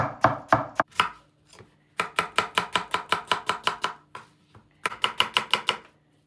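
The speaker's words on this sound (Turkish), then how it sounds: "Soğanları fazla ince doğramıyoruz." Rapid knife chopping of onions on a cutting board, sharp close taps in quick bursts separated by brief pauses, no voices.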